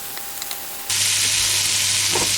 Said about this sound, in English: So I'm just going to give this a little mix around